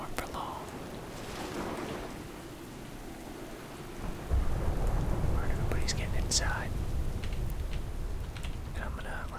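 A thunderstorm in World of Warcraft's Exile's Reach rumbles low and heavy with steady rain hiss, a deep roll swelling midway, while soft voices and faint clicks sit over it.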